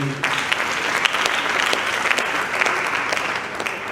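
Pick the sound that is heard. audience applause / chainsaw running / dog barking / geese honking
audience applause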